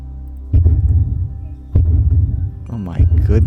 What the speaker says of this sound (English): that's a heartbeat? Heartbeat of a giant.